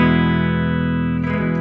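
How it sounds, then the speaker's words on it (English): Electric guitar on its bridge pickup, one sustained distorted chord ringing steadily and close for about a second before it fades. "And the bridge pickup sounds like this."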